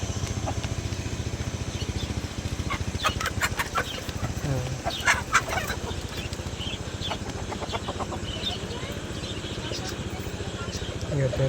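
Native chickens cluck and peck at mixed wheat feed close by over a steady low engine-like drone, with scattered short calls and a few brief tapping sounds.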